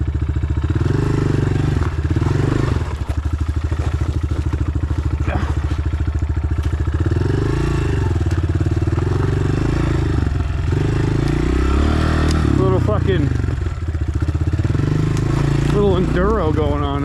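A Honda CRF125F dirt bike rides on an enduro-style trail, its small single-cylinder engine buzzing loudly and continuously with rising and falling revs near the end, while a person talks over the engine noise.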